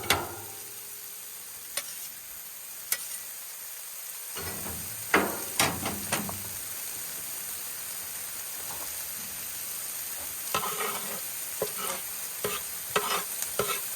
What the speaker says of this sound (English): I'm going to add the onions in.